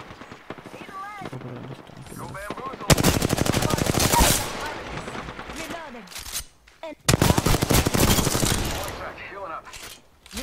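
Bursts of rapid automatic gunfire in Apex Legends, loud and close, come in two long volleys with scattered single shots and people talking between them.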